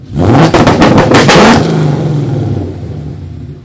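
A Ford Mustang S550 engine fitted with an N2MB WOTBOX two-step revs hard to about 2,500 RPM, giving a loud burst of rapid popping bangs before settling into a rough, fading idle rumble.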